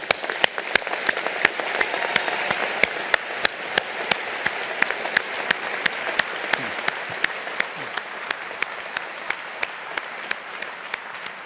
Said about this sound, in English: congratulating our graduates of 2022 on their collective achievements and success with a round of applause from all of us here